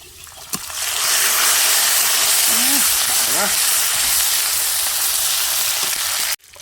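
Chopped onions drop into hot oil in a pan for a prawn kalia and burst into a loud, sustained close sizzle that hisses on steadily, with a faint voice briefly underneath, before cutting off abruptly.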